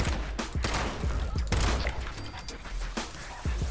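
Rapid bursts of gunfire in the Fallout 76 video game, sharp repeated shots over a couple of seconds with a steady layer of game sound beneath, close and fairly loud.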